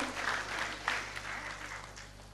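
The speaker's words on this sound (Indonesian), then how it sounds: "berikan tepuk tangan yang meriah Bapak Ibu sekalian" Audience at an academic university seminar applauds in a dense, steady wash of clapping that fades slightly toward the end.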